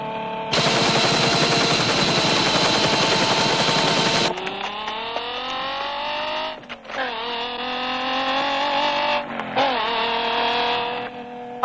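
A car engine from the 1984 series Hot Pursuit revs hard and loud for about four seconds, then drops into a lower, steadier drone with rising and falling pitch, with two brief dips as gears change from fifth down through fourth.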